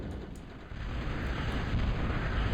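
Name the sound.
bombing raid explosions in a video game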